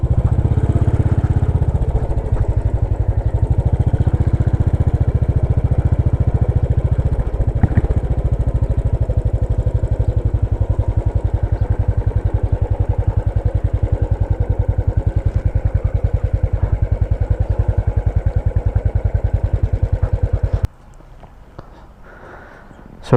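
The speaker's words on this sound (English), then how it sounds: "Royal Enfield Classic 500, 500cc single cylinder engine" A Royal Enfield Classic 500 with a 500cc single-cylinder engine runs loud and close, a steady thumping beat for about twenty seconds before it cuts off abruptly.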